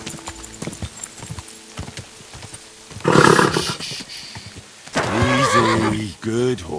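A horse galloping in the medieval game Kingdom Come: Deliverance II, with fast clip-clop hoofbeats, a loud whinny near the middle and another burst of neighing toward the end, over background game sound.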